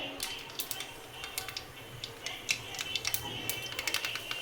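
Mustard seeds spluttering in hot oil, giving a dense run of sharp crackles and pops over a steady sizzle, close and lively with no talk.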